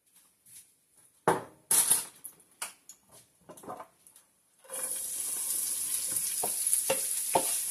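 Vegetables sauteing in oil in a home kitchen, starting with scattered clinks and stirring clatters, then a loud steady sizzle as the veg hits the hot pan, with occasional spoon scrapes over the hiss.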